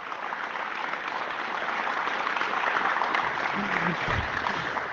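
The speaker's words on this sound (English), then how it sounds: "give him a round of applause" Audience applause at a Canadian political rally, a dense and sustained crowd clapping that holds steady throughout, with a faint low voice surfacing near the end.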